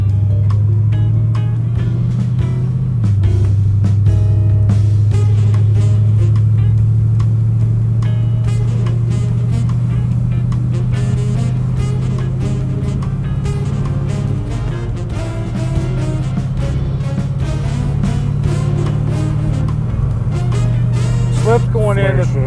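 A Ford car with a slipping, flaring transmission being manually shifted through the gears while driving, a steady low engine drone that steps in pitch at each shift, with a person talking over it throughout.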